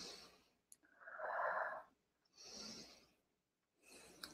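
A person breathing slowly in through the nose and out through the mouth as a calming exercise, with two or three soft, airy exhales separated by quiet pauses, close and gentle.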